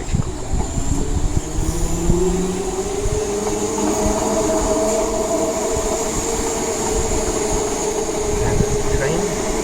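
A train rumbles steadily past at close range, with continuous low rolling clatter and a faint high whine throughout.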